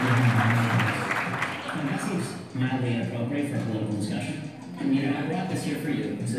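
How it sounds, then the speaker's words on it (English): A live audience at a CatholicVote event applauds for Ben Shapiro, a steady wash of clapping from a crowd that swells and dips, with voices and cheering mixed in. "let's give a warm round of applause for our good friend"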